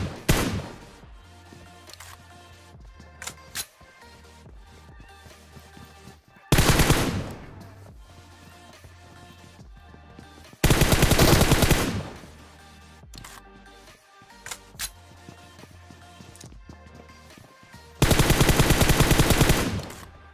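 Gunfire in the mobile game PUBG Mobile crackles in several separate bursts: a few short shots early, then three longer, loud automatic volleys spaced across the stretch, with quiet gaps between.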